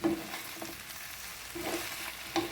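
Steady sizzling of eggplant and zucchini frying in a pan without water, with a few scraping knocks from a utensil stirring through it.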